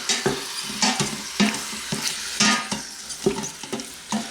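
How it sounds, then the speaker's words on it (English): Beef stroganoff sautés in an Instant Pot under a soft frying hiss. A spoon scrapes and knocks against the inner pot in about ten quick, fairly regular stirring strokes, close up. "I'll give this a good stir."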